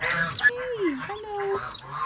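A duck gives a few short nasal quacks up close, brief honking calls scattered among people talking.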